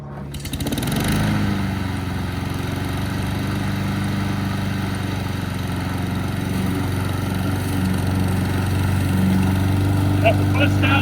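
A lawn mower engine starts up and then runs steadily near the listener, a loud, even droning hum that holds level for about ten seconds.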